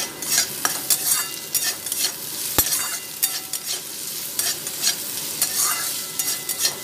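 Poha cooking in a pan over a low flame, a soft continuous sizzle broken by repeated scraping and stirring strokes of a spoon against the pan, close and moderately loud, with no talking.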